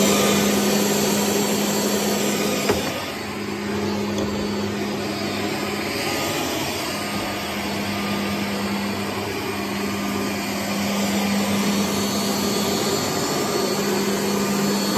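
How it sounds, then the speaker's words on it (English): Vacuum motor of a Tennant T3 floor scrubber running steadily throughout, a loud continuous whine with a constant low hum and no break. "We do have vac motor."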